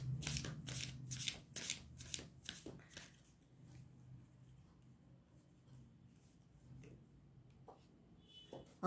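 Tarot cards shuffled by hand in a quick run of crisp riffling snaps over the first few seconds, then a quieter stretch with a few soft slides as a single advice card is drawn; no talking.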